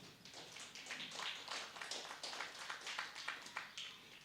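Church congregation clapping together, a faint, dense patter of many hands that keeps up steadily for a few seconds with no voices over it.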